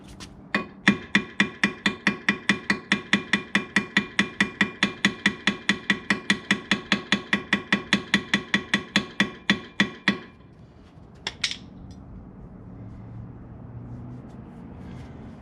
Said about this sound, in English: How about a ball peen hammer